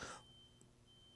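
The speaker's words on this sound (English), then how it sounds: "That's a fire alarm." A home fire alarm gives a single short electronic beep, then a thin steady tone holds faintly under a quiet room hum.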